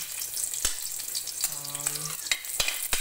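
Garlic fries in a pan with a steady hiss of oil, broken by a few sharp taps of a utensil against the pan, close and alone without talking.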